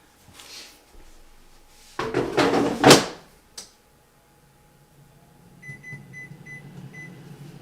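The basket of an air fryer holding grilled cheese sandwiches slides back in with a short clattering scrape and a thunk, and then the appliance gives a few quick electronic beeps over a soft running hum.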